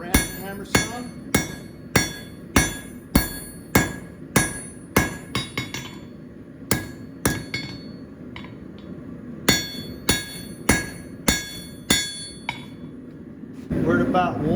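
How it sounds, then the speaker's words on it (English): Rounding hammer forging steel box-jaw tong jaws on an anvil, the jaw held at 45 degrees half off the edge: loud, sharp ringing strikes in steady bursts of several blows with short pauses between. "Use our rounding hammer some."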